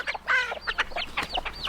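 Chickens and a rooster in a mixed backyard flock cluck and squawk in a quick run of short calls that rise and fall over about two seconds, fairly close, with no one talking.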